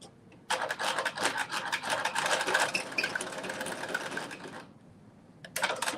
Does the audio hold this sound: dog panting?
no